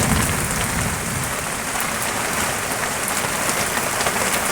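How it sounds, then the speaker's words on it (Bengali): Heavy rain pours down steadily and loudly, a dense, unbroken hiss of drops drumming on a surface close by, with no voices. "জোরে বৃষ্টি পড়ছে"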